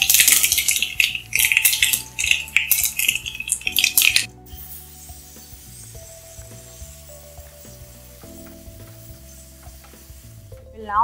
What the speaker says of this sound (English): We'll add the heeng powder to it and fry it.